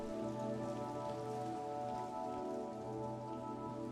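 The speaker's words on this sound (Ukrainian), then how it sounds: "Через скло ти спостерігаєш, як краплини дощу мандрують вниз" Raindrops patter on window glass in a steady, even wash of rain, close and soft, continuing without pause under a faint tonal musical bed, with no voices.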